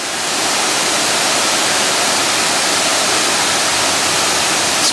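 Crabtree Falls pours heavily, a dense, constant roar of rushing water that stays loud and unbroken throughout, with no voices.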